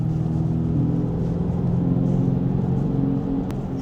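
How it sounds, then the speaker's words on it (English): Simulated exhaust sound from a 2024 Dodge Charger Daytona EV: a low, steady engine-like rumble with a throaty exhaust tone, continuous and fairly loud, like a car cruising at a steady pace. "I want you to hear the exhaust noises."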